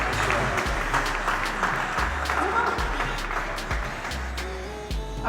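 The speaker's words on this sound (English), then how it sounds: "Can I hear a round of applause as I'm reading?" A media meet-and-greet crowd applauds, dense clapping running throughout under a recurring low thumping of background music, with voices mixed in.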